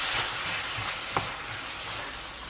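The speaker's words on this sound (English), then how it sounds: "So I'm going to add our peppers in now, and we'll just stir them in and keep frying." Peppers frying in a pan for Korean fried rice, a steady close sizzle with a brief scrape of stirring partway through.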